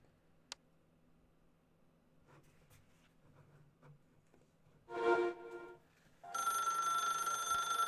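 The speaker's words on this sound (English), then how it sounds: "Phone ringing." A telephone rings loud and sustained after a quiet stretch of faint clicks and a brief tonal burst, in a mystery mansion puzzle game.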